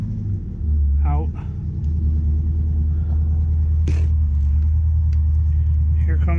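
A white car with an LS engine swap pulls up with a deep, steady exhaust rumble close by, and a few faint knocks and clicks land over the low drone.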